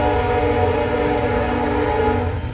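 A toy train from a set of Halloween decorations gives a steady, loud horn-like tone with a rolling rumble underneath, sustained without a break and without any talk.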